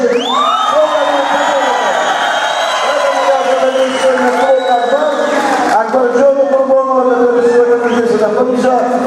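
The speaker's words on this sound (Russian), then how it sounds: "Аплодисменты, да, аплодисменты." A crowd cheers, whoops and shouts at the ORION FIGHTING GLOBAL 3 no-rules fighting tournament. The noise is loud and sustained throughout, with an amplified voice carrying over it.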